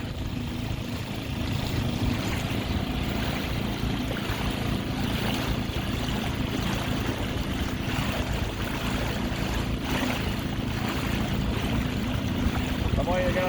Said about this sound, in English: We could not resist filming Wind Waker as we were passing by with the dinghy.